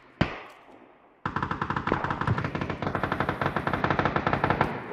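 Gunfire in the video game PUBG: one sharp shot, a pause, then a long, rapid, evenly paced automatic burst, loud and close.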